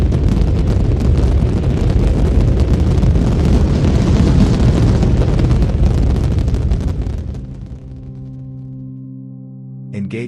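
Rocket liftoff in the VR game Moon Trip: a loud, dense roar fills the first seven seconds, then drops abruptly to a quieter steady hum with sustained tones, and a faint voice comes in near the end.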